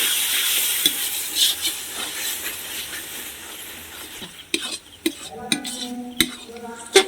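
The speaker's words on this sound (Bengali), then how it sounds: "মশলার সঙ্গে সবগুলোকে কষিয়ে নেব" Potatoes with coriander powder, spices and salt sizzle loudly in a pan for aloo dum, then give way to scattered clinks and scrapes of a spoon stirring against the metal, close and without talk.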